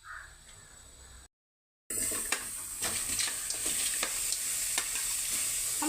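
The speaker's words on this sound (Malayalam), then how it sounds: "ഉള്ളി തക്കാളി മല്ലിയില ഇട്ട് ഒന്ന് വതക്കി വഴറ്റിയെടുത്താൽ" Urad dal, onion, tomato and coriander sauté in a pan with a steady close sizzle and repeated scraping stirs, after a short silent break near the start.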